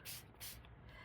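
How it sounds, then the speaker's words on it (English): Two quick hissing spritzes from a spray bottle of water misting painted paper, short close bursts a fraction of a second apart over a quiet room. "oh, I have a spray bottle right here"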